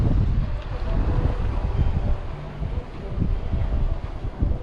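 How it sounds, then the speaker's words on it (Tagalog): Strong wind blowing at a seaside fishing spot, heavy low rumbling gusts battering the microphone in uneven surges, with a faint wash of water beneath. "Medyo malakas pa naman ang hangin ngayon."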